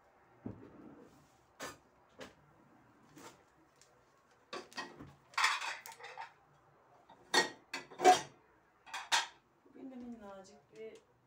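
Scattered clinks and clatters of dishes and cutlery being handled, irregular and close, with soft running water sounds and brief pauses between knocks.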